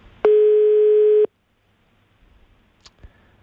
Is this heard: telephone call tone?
yes